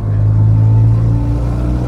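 A straight-piped Ferrari engine drops a gear, giving a loud, rumbling burst that swells and then eases off into a lower, rough drone over two seconds, heard alone without talk.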